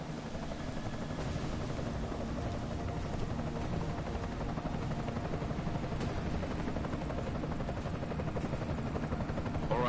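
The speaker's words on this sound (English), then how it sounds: "Enemy helo sighted." Enemy helicopter in the video game Deus Ex: Mankind Divided, a continuous low rotor drone with steady chopping pulses and engine whine, holding an even level throughout with no voices.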